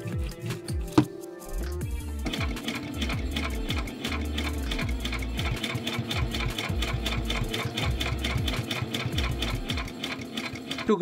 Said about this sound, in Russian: Я сделаю две строчки на швейной машине, чтобы закрепить эти подвернутые половины.